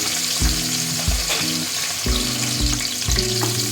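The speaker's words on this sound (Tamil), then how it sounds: "இப்போது வெங்காயம் போட போகிறேன்" Onions fry in ghee for biryani with a constant crackling sizzle, while a utensil stirs the pan in repeated scraping strokes.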